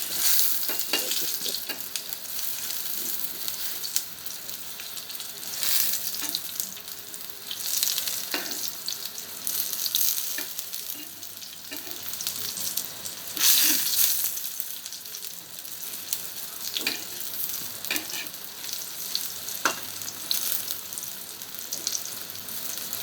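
Eggplant fries in a pan with lentils cooking nearby, giving a continuous close sizzle broken by bursts of spattering and a few utensil scrapes over about twenty seconds.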